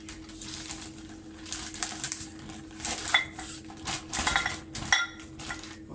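Small lab containers being placed into a Ziploc bag, with close plastic crinkling, light clinks and knocks in irregular bursts, loudest toward the end.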